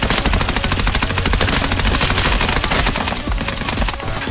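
Automatic gunfire in the shooter game Escape from Tarkov, a loud rapid burst of shots in a fast continuous rhythm lasting several seconds, close and dense, with no talking.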